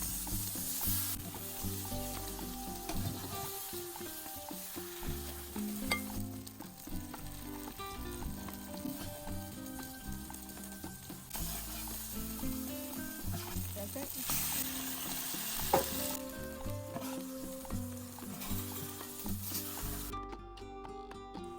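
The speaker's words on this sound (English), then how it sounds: "Leave it on the comal until the cheese is nice and melted, or until the sides of the tortilla are lightly crispy." Tortillas topped with cheese sizzle on a comal for Mexican street enchiladas, a soft continuous frying crackle that runs under background music for about twenty seconds before dropping away at the end.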